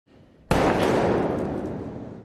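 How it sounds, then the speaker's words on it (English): A single loud firework blast from a film scene hits suddenly after a faint low rumble, then rolls out in a long, crackling, slowly fading boom. "The family then awkwardly gathers together to enjoy some fireworks."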